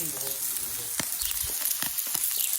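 Large marbled Karpaty steaks sizzle on an outdoor camping grill with rosemary, giving a close, steady crackle with sharp pops.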